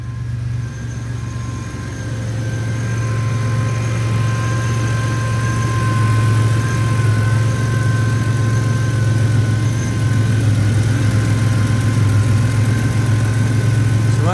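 The engine of a 1986 Buick Regal T-Type idles steadily and loudly up close, a smooth continuous low hum with faint whining tones above it that never changes pace.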